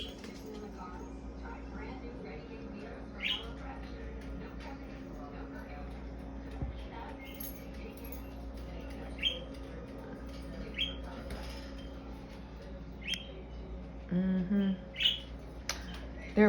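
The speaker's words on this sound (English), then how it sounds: "A lot of little blackbirds, little bitty teeny birds. Some cardinals." Small birds, including blackbirds and cardinals, chirp at a snowy winter feeder in North Carolina, giving scattered short calls and tweets over a steady background hum, with a louder flurry of chirps near the end.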